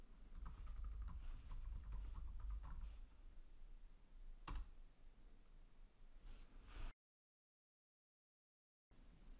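Computer keyboard typing while entering a command in the Windows command prompt, a quick run of soft, close key clicks followed by a brief silence.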